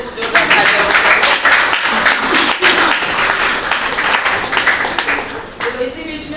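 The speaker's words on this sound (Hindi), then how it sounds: "फिर से एक बार जोर से दिल से जोरदार तालियां।" Enthusiastic audience clapping at a motivational talk rises in loud, uneven bursts and rolling waves, with some crowd voices mixed in, before tapering slightly near the end.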